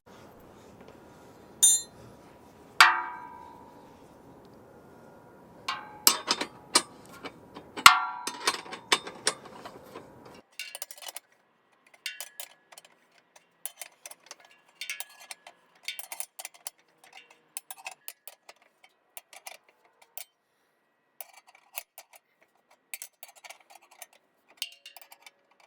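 Bolts on a 2019 Jeep Wrangler Rubicon hitch get tightened with a ratchet, producing close, crisp clicking bursts in irregular runs, louder early on and then quieter, sparse clicks with no talking.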